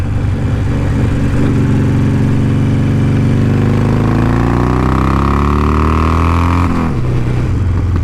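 A 2020 Harley-Davidson Sportster 48 motorcycle accelerates, its loud, close V-twin rumble rising steadily in pitch for several seconds before dropping sharply at an upshift.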